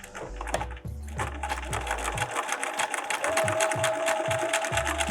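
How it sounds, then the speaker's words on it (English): A sewing machine runs steadily, its needle thumping in a fast close rhythm as it stitches across the short fabric edge of a hair scrunchie. "Now we stitch across the short edge on one side."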